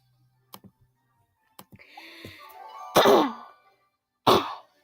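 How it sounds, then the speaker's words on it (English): Two loud, harsh coughs from one person at close range, a short burst and then another about a second later, with a few soft clicks and a throat sound before them. "Sorry, I'm coughing a lot."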